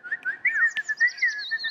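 A small bird, called a 'burung anjing' in Indonesian, gives a close, steady run of bright warbling chirps and whistled trills with no talking over it.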